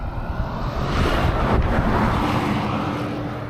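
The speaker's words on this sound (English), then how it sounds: "Man, the wind is strong" Strong wind across open Inner Mongolian grassland, loud and continuous, buffeting the microphone in a broad roaring rush that swells slightly partway through, with no voices.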